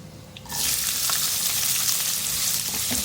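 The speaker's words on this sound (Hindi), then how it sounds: "2 छोटी प्याज है, इनको मैंने छोटा छोटा कट कर लिया ऑमलेट स्टाइल में। ये डालूंगी इसमें।" Small chopped onions drop into a pan of hot oil with cumin, breaking into a loud, steady sizzle after a quieter first half second, with faint stirring scrapes throughout.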